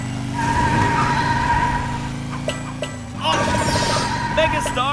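Race car engine humming steadily in a PJ Masks building and racing game, with bright electronic music and cheerful game chimes layered over it, close and continuous.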